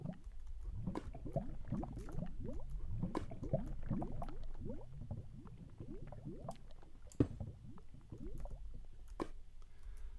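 Lava bubbling in Minecraft, a continuous stream of soft, wet blooping pops and gurgles at low volume, with a few sharper clicks scattered through.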